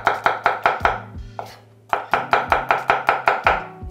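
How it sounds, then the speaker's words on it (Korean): A knife chops about three garlic cloves coarsely on a cutting board in quick, evenly spaced sharp knocks, with a short pause partway through, close and distinct with no talking. "마늘 3알 정도 굵게 다져도 되고 아니면은 그냥 이렇게"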